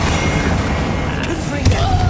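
A Bombarda spell blast in Hogwarts Legacy lands as a short booming burst near the end over layered game effects and background noise.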